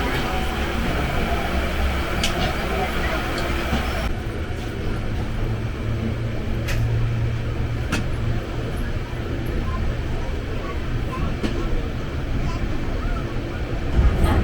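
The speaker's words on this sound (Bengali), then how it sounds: "ট্রেন এখন ঝারসুগুদা স্টেশনেতে আসছে" The 12871 Ispat Express runs on toward Jharsuguda station, heard from inside the coach as a loud, constant rumble and rattle of wheels on track with occasional sharp clicks.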